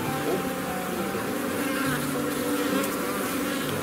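Honey bees in a hive buzz around their laying queen, a dense, continuous close-up drone of many wings at a steady level.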